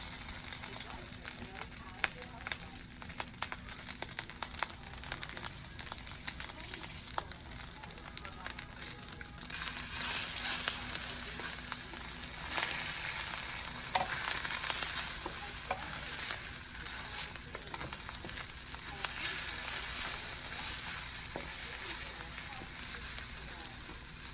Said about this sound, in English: And now you guys see my mom dropping 2 eggs into the pan.